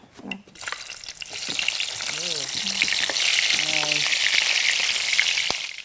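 Onions sizzle and fry in hot oil as the base for a turkey sauce, a loud steady crackling hiss that builds and holds, with brief stirring clinks and a little speech underneath.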